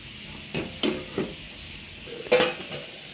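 A metal lid is placed on a cooking pot of ridge gourd curry with fried chhatu, giving several sharp clinks and knocks at irregular intervals, with one louder clattering contact near the end, close by.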